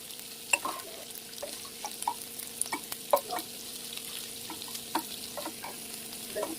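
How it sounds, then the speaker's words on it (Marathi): Onions frying in oil while being stirred: a moderate sizzle runs under repeated scraping and clinking strokes of a spoon in the pan, close by and steady, with no speech. "आपण इथे कांदा फ्राय करून घेणार आहोत"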